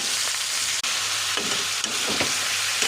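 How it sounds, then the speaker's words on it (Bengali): Leafy greens tempering in hot oil, producing a loud, continuous close-up sizzle with crackling bursts and a couple of brief clanks or stirring sounds, with no voices. "এখন শাক বাগার দেব, তার জন্য তেল দিয়ে দিলাম, তেলটা গরম হলে শাক দিয়ে দেব"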